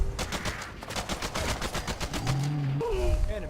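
Rapid gunfire in the video game Fallout 4: Far Harbor, a fast run of loud, evenly spaced shots over ambient game music, easing off near the end as tones rise.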